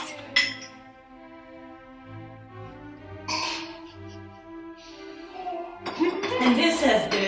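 Glasses clink together in a toast, bright ringing taps at the start, with chatter and a voice around them and a louder burst of clinking and noise near the end.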